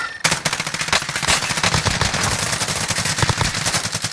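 Automatic gunfire in Call of Duty Warzone, a sustained loud burst of rapid shots firing continuously for several seconds.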